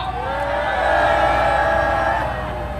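A large crowd at a political rally roars together in one sustained, loud shout that swells and holds for a few seconds before easing slightly.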